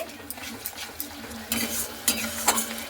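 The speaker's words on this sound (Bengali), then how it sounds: "এরপরে খুব সুন্দর করে আবারও নাড়াচাড়া করে নিচ্ছি" Turmeric and Kashmiri chilli powder being stirred in a pan for a Bengali fish curry, with a soft steady sizzle and several scraping, clinking spoon strokes against the metal.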